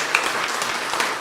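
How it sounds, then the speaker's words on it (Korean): Congregation applause at a Christmas church service, a brief steady wash of many hands clapping at moderate volume with no voices over it. "큰 박수로 하나님께 영광 돌립시다"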